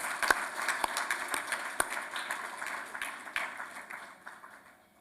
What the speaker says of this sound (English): Can we give them another round of applause as they sit?